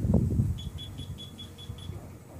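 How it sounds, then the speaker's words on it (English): A thin, high electronic beeping from a child's Christmas toy repeats at a steady pace, about eight short tones, over low rumbling background noise with a muffled bump at the start. "Why is it beeping?"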